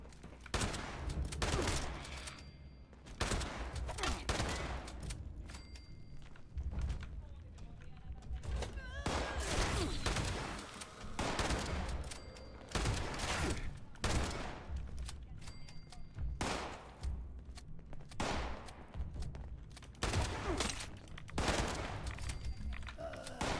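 Rapid bursts of gunfire from the video game Fallout 76 crackle almost continuously, loud and dense, with repeated volleys and short gaps, and game sounds mixed in throughout.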